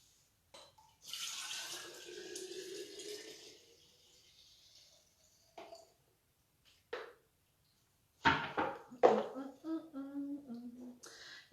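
Green juice poured from a container into a jar over a kitchen sink, a steady liquid stream and trickle followed by splashes and glassy clinks close by.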